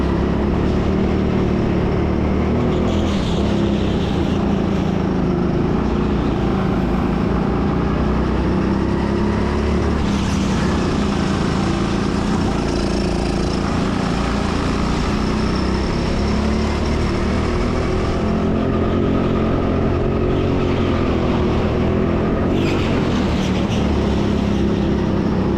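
Go-kart engines racing at an indoor TeamSport Sheffield track, a loud continuous motor drone with rising and falling revs as karts pass, close and dominant for the whole stretch.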